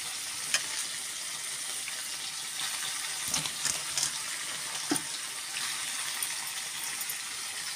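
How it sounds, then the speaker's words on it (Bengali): Taro leaves are stirred into fried garlic in a hot pan, giving a continuous close sizzle and frying crackle with scattered scraping stir sounds and no talking. "তো এখন আমি কচুর শাকটা এর সাথে মিলিয়ে দিলাম।"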